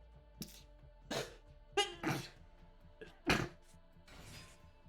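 Two or three short sneeze-like bursts scattered among soft knocks and clatters in a quiet room, fairly close with no talk.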